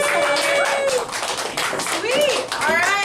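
An open mic audience claps and cheers in a steady burst of applause, loud and close, with voices calling out over the clapping.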